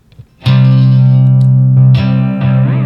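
Distorted electric guitar run through a Caroline Kilobyte 2000 delay pedal, a loud sustained chord ringing with rich overtones, then re-struck twice with shifting, echoing tails.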